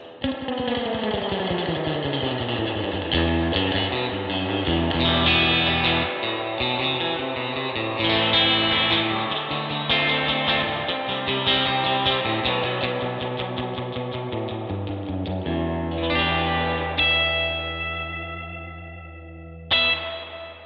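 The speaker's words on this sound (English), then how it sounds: "Let's just push the reverb so I've shown you everything." Electric guitar through a De Cillia Single 25 tube amp's reverb, playing chords and melodic lines with a heavy, washy reverb tail, loud and continuous, ringing out into a sustained decay at the end.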